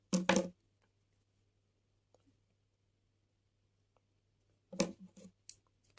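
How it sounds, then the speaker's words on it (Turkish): Scissors snip through crochet yarn in two short bursts, one at the start and one near the end, close and crisp against near silence. "İpimi kesiyorum."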